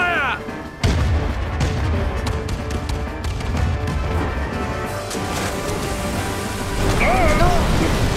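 Cannon fire booms during a ship battle in the video game Kingdom Hearts III, a heavy blast followed by continuous rumbling battle noise, crashes and splashes, with game voices and music beneath.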